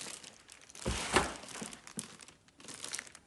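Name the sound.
unwrapping a new Thermomix from its packaging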